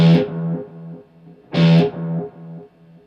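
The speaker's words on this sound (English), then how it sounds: "It's an MXR carbon copy analog delay" Two plucked electric guitar notes through an MXR Carbon Copy analog delay pedal, each followed by a train of fading echoes that repeat evenly and decay, clean and close.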